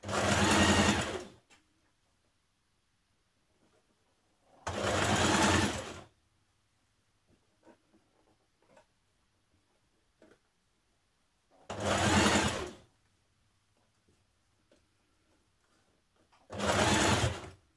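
A sewing machine stitches a small turned-up hem on a sleeve, running in four loud bursts of steady whirring separated by quiet pauses with faint handling sounds.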